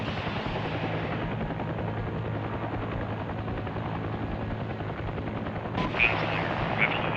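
Enemy gunfire in the helicopter combat game Heliborne crackles under a constant loud rotor drone, with sharper bursts near the end of the stretch.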